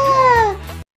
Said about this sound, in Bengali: কারো কাঁদার আওয়াজ মনে হচ্ছে।